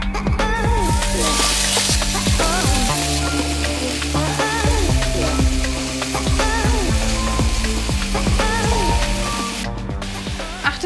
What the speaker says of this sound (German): Und zwar müssen wir jetzt zuerst mit ein wenig Öl den Fisch anbraten.